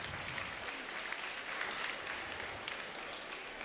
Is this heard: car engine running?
no